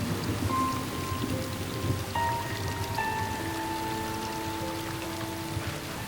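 Steady, dense rain shower in a film scene, a continuous hiss of drops filling the whole stretch with faint tonal music lines running underneath and no voices.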